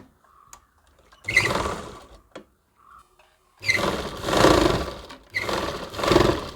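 A sewing machine stitches a saree blouse in short bursts, a close mechanical whirring that starts and stops several times with quiet gaps and faint clicks between runs.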